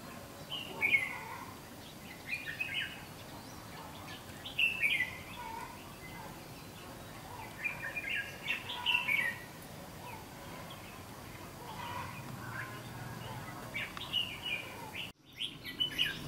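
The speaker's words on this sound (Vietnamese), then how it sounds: "đây đang đánh chào mào này, có con chòe này to không anh mọi người, đứng ngay trên kia" Red-whiskered bulbuls and a magpie robin sing from trees outdoors, bright repeated chirps and warbled phrases in intermittent bursts over quiet rustling background, moderately close, with a brief handling dropout near the end.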